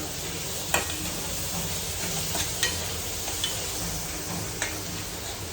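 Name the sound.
poha with peas cooking and being stirred in a pan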